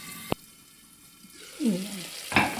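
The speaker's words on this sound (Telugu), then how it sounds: "ఆ కొత్తిమీర పేస్ట్ ఏదైతే ఉందో అది బాగా పచ్చివాసన పోయేలాగా ఆయిల్లో మగ్గించుకోవాలి" Coriander paste frying in oil in a pot for a Muslim-style pulao, a soft steady sizzle with a sharp clank near the start and another utensil knock near the end.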